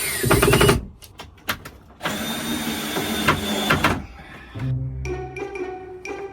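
A power driver sinks a screw into soft wood in bursts, with a steady whirring buzz of the motor, short pauses between pushes and a lower-pitched run near the end.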